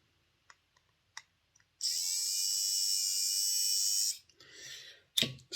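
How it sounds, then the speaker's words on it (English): The small electric motor of an Airfix Class 31 model locomotive, running on battery power, gives a high, steady whine for about two seconds, with scattered clicks of handling before and after. "Still not the quietest motor in the world"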